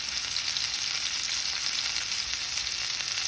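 Spiced lamb frying in a pan, a dense, steady sizzle that stays loud and close throughout with no talking.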